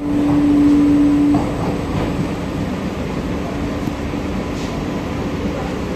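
A new air-conditioned electric MEMU commuter train in Chennai rumbles steadily nearby with broadband rolling noise, opening with a brief sustained tonal whine that fades after a second.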